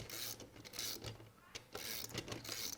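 Socket wrench ratchet tightening a bolt on a fuel mechanism assembly, with quiet bursts of rapid clicking strokes separated by short pauses. Faint and close, with no talking.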